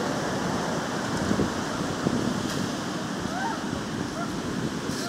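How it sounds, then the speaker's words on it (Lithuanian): Ocean waves wash steadily against a rocky shore, a continuous broad roar of surf mixed with wind buffeting the microphone, with no clear breaks between swells. "Va vandenynas visas vanduo."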